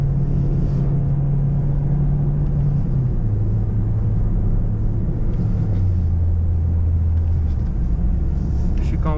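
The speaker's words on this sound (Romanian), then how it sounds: "Da, se aude bine motorul." A petrol Alfa Romeo Giulietta engine runs steadily, a loud low drone that steps down in pitch a few times over nine seconds, heard from inside the used car being checked.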